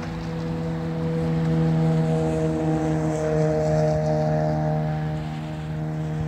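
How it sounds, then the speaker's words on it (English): A motorcycle passes during a nature walk, giving a steady droning engine hum with strong low tones that swells and fades gently over several seconds. No one talks. "Did you hear the motorcycle?"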